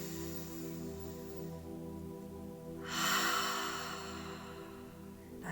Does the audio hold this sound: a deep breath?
yes